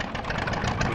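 An idling tractor engine in a farming video game, a steady low, rumbling drone held at a constant level for about a second with no talk over it.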